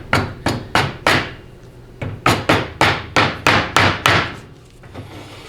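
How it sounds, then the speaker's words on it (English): A hammer taps a Ford 6R140 transmission pump assembly into place with about a dozen sharp, close metallic knocks in two quick runs, separated by a short pause, with no talking. "And then progressively tap it home."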